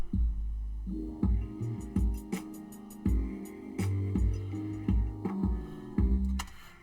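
Muffled music with thumping bass and beat plays, its high end dulled by a low-pass filter on a Native Instruments Maschine group, punchy low notes dominating.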